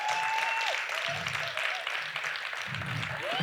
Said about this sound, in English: if I can please ask you to applaud even the 2 representing the rest